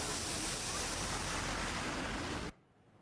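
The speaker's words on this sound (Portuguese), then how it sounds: "Pelo barulho, dá para ter ideia da força da água." Floodwater rushes loudly through a street during a heavy-rain flood in Paraná, Brazil, a dense, steady roar that cuts off abruptly after about two and a half seconds.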